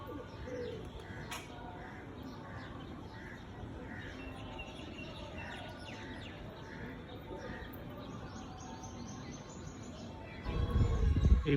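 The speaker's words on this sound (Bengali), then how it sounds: "এই পায়রাগুলো আমার লফটের উপরে আসছে" Pigeons coo in repeated soft, rhythmic phrases around a rooftop pigeon loft, moderately near, over a steady outdoor hum, with a burst of louder rustling and flapping at the end.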